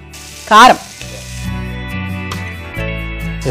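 Chicken curry sizzles in a pan after chili powder is added, a sharp burst of frying followed by a steady low hiss and bubbling that carries on throughout.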